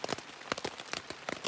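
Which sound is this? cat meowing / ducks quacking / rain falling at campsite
rain falling at campsite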